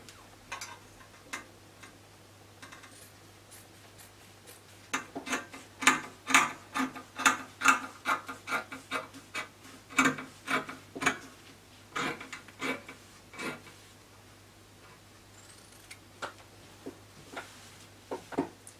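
Scissors cutting Ankara fabric, close crisp snips in an uneven rhythmic series, denser in the middle and sparser toward the end, alone over a faint hum.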